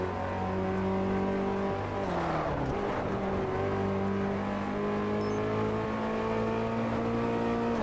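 A car drifting around a corner in Test Drive Unlimited 2, a loud steady engine drone whose pitch dips and shifts through the turn, with tyre scrub and a brief surge midway.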